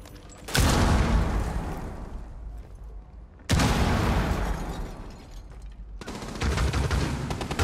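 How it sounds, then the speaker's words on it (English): Powerful explosions in the game Rainbow Six Siege, three booming blasts in quick succession, each a sudden loud burst that decays into rumbling debris noise, close and with no talking. "Grenade out."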